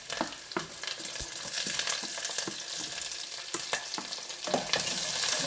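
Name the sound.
stirring ginger, garlic and chilies frying in a pan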